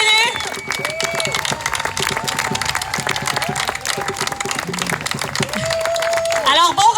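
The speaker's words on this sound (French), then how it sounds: "Applaudissez tous les orateurs." A crowd at a speaking event in Granby keeps up continuous loud applause with some cheering. Voices are heard over the clapping throughout.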